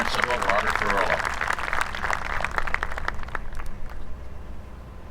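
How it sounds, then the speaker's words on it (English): Applause from an audience at a high school graduation ceremony held in an air-conditioned venue, a broad steady wash of many hands that holds for several seconds and thins toward the end. "Let's give Robbie a round of applause for helping put this whole thing together tonight."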